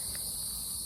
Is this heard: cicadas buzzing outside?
yes